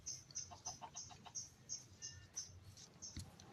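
Minecraft chickens give a quick run of soft, clucking calls in a bouncy, irregular rhythm, repeating about a dozen times over a few seconds, faint and alone without speech.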